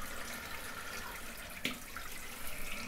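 A bathroom tap runs in a steady, even hiss during wet shaving, with a brief faint clink partway through.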